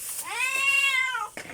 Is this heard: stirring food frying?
no